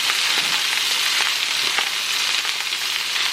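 Mixed vegetables are stirred in a hot frying pan for home-style hibachi fried rice, giving a loud, continuous sizzle close up with occasional scraping stirs and no talking.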